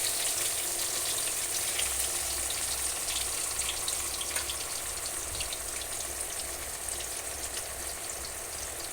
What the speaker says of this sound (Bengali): মাছগুলো খুব ভালোভাবে ভাজা হয়।